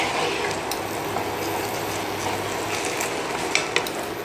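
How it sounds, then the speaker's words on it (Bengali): Half-boiled rice for sweet zarda pulao is stirred in a pot, a steady bubbling sizzle with soft scraping and a couple of light utensil taps near the end, close by. "এখন আমি ভালো করে নাড়বো"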